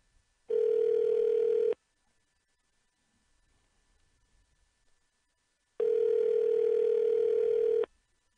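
Two long electronic ring tones on a phone line, each lasting about a second, separated by a few seconds of near silence.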